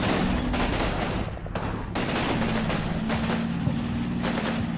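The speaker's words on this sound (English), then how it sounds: "Ah, so that's where that machine gun is." Machine gun fire in the WWII wargame Combat Mission: Rome to Victory, dense overlapping bursts and distant booms rolling continuously over a low rumble, with no voices.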